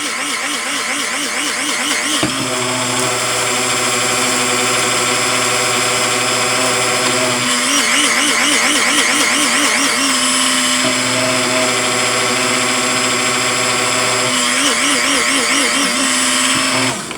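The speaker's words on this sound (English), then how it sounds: "When you grind it, just shake the hell out of it so it's hitting the lid." A loud electric grinder whirs continuously through lumps of brown sugar, its motor pitch shifting and wavering as the container is shaken so the contents rattle against the lid.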